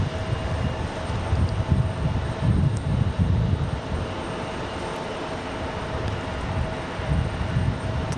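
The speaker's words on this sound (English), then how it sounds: "Pretty smooth touchdown." An airliner touches down on the runway at Raleigh-Durham International, a loud, broad engine roar and rumble that swells and holds steady throughout, with no voices.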